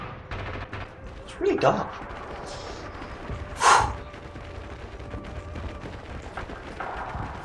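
Bursts of machine gun fire in the World War II shooter Red Orchestra 2: Rising Storm, two short loud volleys standing out over a steady battlefield din, with someone talking quietly between them.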